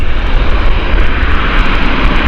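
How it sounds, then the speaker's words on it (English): Emirates Airbus A380 jet airliner, flight EK15, at Gatwick Airport, a loud, steady, broadband engine roar that stays close and even throughout with no talk. "Beautiful EK15 of the Emirates A380"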